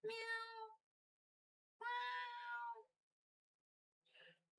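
A pet kitty meows indoors: two clear, drawn-out meows a second or so apart, close and fairly quiet, followed by a shorter faint third call.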